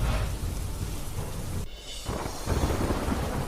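Heavy, steady rain pours across open fields, a dense hiss of drops with low rumbling thunder rolling underneath, briefly dipping before the downpour swells again.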